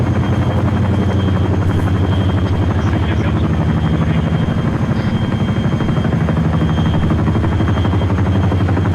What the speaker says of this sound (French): L'hélico est en train de se poser